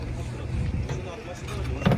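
A Hyundai Porter truck's turbo engine idles with a steady low rumble, close by, with people talking over it.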